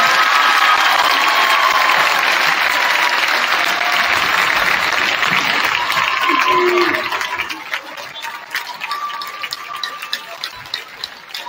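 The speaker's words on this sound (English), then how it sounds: "Let's give a round of applause for Stacy." Audience applause at a hometown heroes ceremony honoring a woman and her family, loud sustained clapping that gradually thins out into scattered claps near the end.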